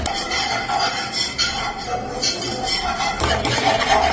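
A spoon scrapes and clinks against a metal pan while stirring white sauce pasta, the rhythmic scraping continuing steadily and close by with occasional sharper knocks.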